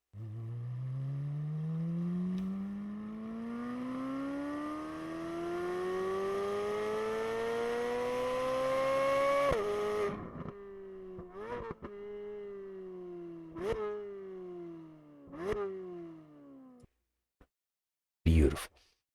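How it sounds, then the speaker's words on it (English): A 2023 Corvette Z06 engine revs in one long, loud climb lasting nearly ten seconds, then drops away into several sharp throttle blips with pauses between them and a final short burst. "I'm just going to end this video just listening to this engine noise."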